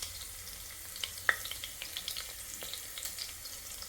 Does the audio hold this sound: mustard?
yes